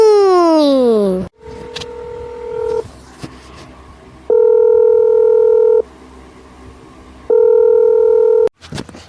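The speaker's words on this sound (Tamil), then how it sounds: "யார் ஃபோன் அடிக்காங்க? யார் அடிக்காங்கன்னு தெரியலையே." A phone rings indoors at home in repeated steady electronic tone bursts separated by short gaps, loud and close, after a brief rising electronic sweep at the start.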